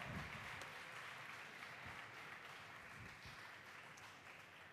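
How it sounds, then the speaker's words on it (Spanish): A large crowd at a Counter-Strike 1.6 grand final esports event claps continuously, a broad, fairly distant wash of applause that eases slightly toward the end. "Un aplauso para Requiem, por favor."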